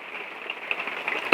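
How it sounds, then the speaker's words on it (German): Rain falls outside on a late-October Saturday morning in a suburb of Bern, a soft, steady hiss that stays faint and even for the whole short stretch, with no talking. "es regnet mal wieder"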